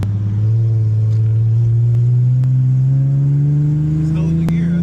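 An Infiniti G37X with a swapped VR30 engine cruises onto a highway, its low engine drone rising slowly in pitch as it holds a gear, steady and fairly loud inside the cabin, with no talk over it.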